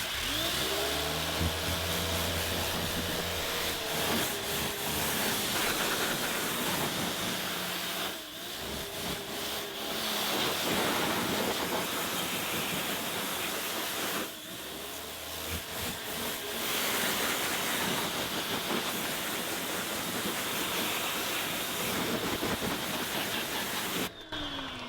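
A pressure washer blasts a steady, loud hiss of spray onto car paint while bugs are rinsed off the front end, with brief pauses and restarts as the trigger is released.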